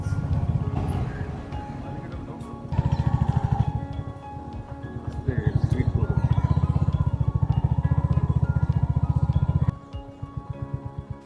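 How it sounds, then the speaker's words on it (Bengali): A motorcycle rides along the Rameswaram beach road, its engine putting out a close, loud, throbbing chug that swells and holds steady, dropping off briefly near the end. "রামেশ্বরমের বিচের পাশ থেকে বাইক চালাচ্ছি"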